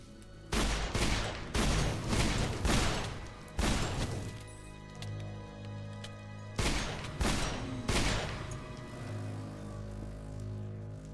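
Guns fire in modded Minecraft in two loud rapid bursts: a long volley of shots, a pause, then a shorter burst, with a fading ring after each.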